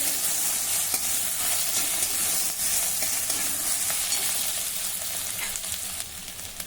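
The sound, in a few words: green chili and ginger paste sizzling in pan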